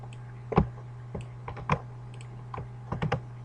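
Irregular bursts of typing on a computer keyboard during spreadsheet-style data entry, with sharp key clacks in small clusters separated by short pauses, close up over a steady low electrical hum.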